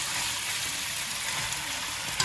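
Onions cut into squares frying in a pan for chilli chicken, a steady close hissing sizzle throughout with a faint stir near the end.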